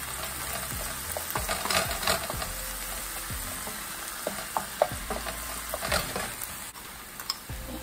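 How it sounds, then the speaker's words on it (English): Ground turkey sauteing in a pan, a steady close sizzle broken by scattered scrapes and knocks of stirring, with no voices. "saute this up a bit."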